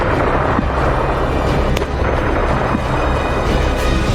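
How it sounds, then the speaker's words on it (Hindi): Wartime explosions and artillery fire in the battle for Mariupol make a dense, continuous roar of rumbling blasts, with one sharper crack standing out amid the steady loud din. "ये धमाके याद कीजिए।"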